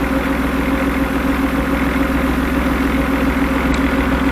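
A Brabus G-Wagon engine idles steadily, warming up during a head gasket leak check, a loud, even low rumble that holds constant throughout with no voices.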